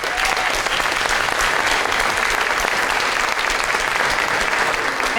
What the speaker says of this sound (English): give yourselves a round of applause for starting a movement across the province